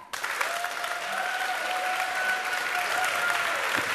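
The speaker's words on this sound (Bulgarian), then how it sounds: "Аплодисменти за тях!" An audience applauds at a dance competition superfinal, a dense, steady wash of clapping that starts abruptly and holds for several seconds, with a thin sustained tone running through it.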